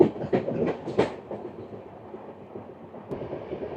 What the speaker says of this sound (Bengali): ট্রেনের স্পিড দেখতে পাচ্ছেন কীরকমভাবে ট্রেন ছুটছে